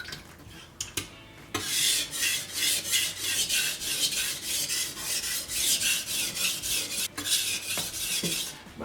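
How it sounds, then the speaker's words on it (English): Kitchen knife drawn back and forth across a sharpening stone, giving a steady rhythm of bright rasping strokes, close and fairly loud, with no talking. "So back and forth, you're gonna raise the burr, and that's the process to sharpen your knife."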